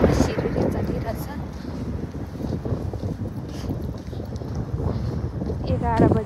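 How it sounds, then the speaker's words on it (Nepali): Cold wind buffets the microphone outdoors during a walk, a steady, loud, low roar lasting throughout, with a brief voice near the end. "यस्तो हावा सिरिरै चलिरहेछ"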